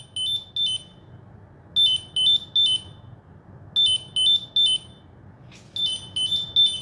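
An Ekster finder card sounds its alarm, sharp high-pitched beeping in quick clusters of chirps with short pauses between bursts, loud against a quiet room.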